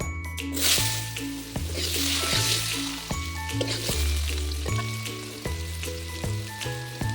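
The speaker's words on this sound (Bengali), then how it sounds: "লাল করে ভেজে নিয়েছি, এবার তুলে নেব।" Food frying in oil in a pan for a rohu fish and potato curry, a steady close sizzle running beneath prominent music with repeating low tones throughout.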